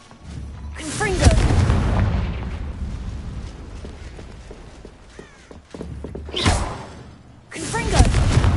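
Fiery spell blasts from Hogwarts Legacy on PS5: a loud burst near the start, a second around six seconds and a third at the end, each a sharp whoosh-boom with sustained rumble between, amid game combat noise.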